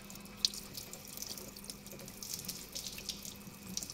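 Water poured from a bottle runs over a Tesla control arm, a steady trickling and splashing with scattered drips, faint and close, with no talk.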